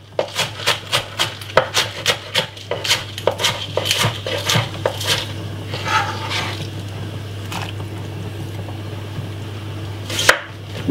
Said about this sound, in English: gonna cut up some spring onion